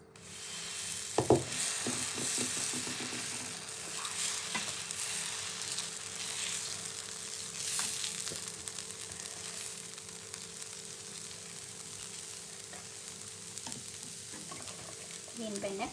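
Ragi dosa cooking on a hot pan for breakfast, a steady soft sizzle throughout with a few light scraping and tapping knocks near the start, close and continuous with no talking.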